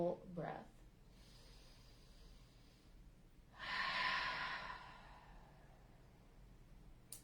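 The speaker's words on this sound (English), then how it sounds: "breathing in through the nose if you're able, and out through the mouth" Slow, deep breathing in through the nose and out through the mouth, with a soft inhale followed by one long, airy exhale, close and quiet in a still room.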